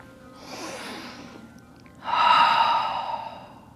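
A slow, deep breath in and out during a gentle yoga child's pose, a soft airy inhale followed by a louder, breathy exhale with a slight sigh, close to the microphone with no talking.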